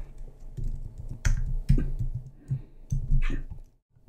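Irregular clacking of computer keys while Python code is typed, close and fairly loud, a few quick presses grouped into short bursts with slight pauses between them, no voice over it.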